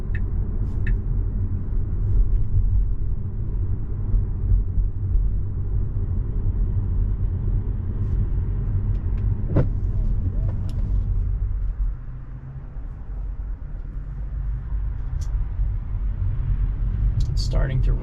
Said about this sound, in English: car moving to the left now